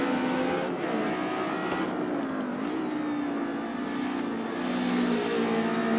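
A car's engine runs steadily at high revs around a race track, a loud close drone with a slight dip and swell as the driver lifts through a corner, alone with no talk.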